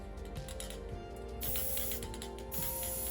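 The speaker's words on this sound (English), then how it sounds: "I'll spray a bit of glue" A steady hiss of matte spray adhesive from an aerosol can, with bursts starting and stopping close by, accompanied by faint clicking and mechanical rattles.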